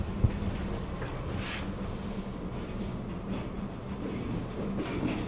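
A KRD diesel railcar rolls along the rails near a station in Semarang, a steady, fairly faint rumble with rhythmic clacking of wheels and a brief metallic click near the start.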